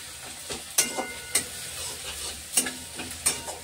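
Garlic paste and onions sizzling in a pan while a spoon stirs them, a steady close frying hiss punctuated by several sharp scraping clacks of the utensil against the pan.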